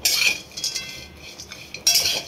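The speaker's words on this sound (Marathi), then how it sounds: "आता आपण हे खोबरं भाजून घेऊ।" Grated coconut dry roasting in a pan with no oil, a spoon scraping and clinking against the metal in quick bursts, close and fairly loud with quieter stirring between.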